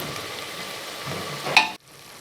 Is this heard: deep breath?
no